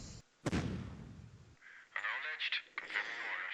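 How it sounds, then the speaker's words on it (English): An artillery attack in the strategy video game Shadow Empire: a sharp, loud blast opens, then a rumbling tail fades out, followed by a burst of electronic, radio-like game effects. "let's attack using artillery."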